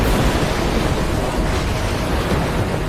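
A large ocean wave surges with a loud, continuous roar of rushing water and wind-like noise, heavy and unbroken throughout.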